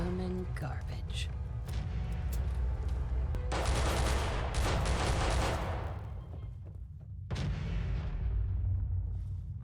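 Gunfire and explosions in the video game Fallout 4 come in repeated heavy bursts and sustained volleys of shots, loud and dense, with voices shouting under the combat noise.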